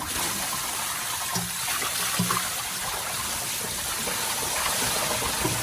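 Liquid is poured into the oil pan of a 1979 Ford engine, a steady close trickling and splashing stream continuing for several seconds under a broad noisy background.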